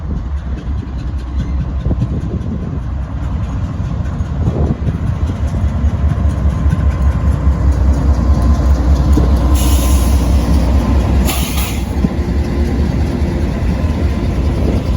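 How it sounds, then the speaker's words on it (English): Norfolk Southern Triple Crown RoadRailer freight, NS 256 led by locomotive 9811, rolling past in Decatur, Illinois: a loud, steady rumble of wheels and cars with faint clicking over rail joints and a brief hiss near the end, no voices. "a Triple Crown road railer. Locomotive is 9811."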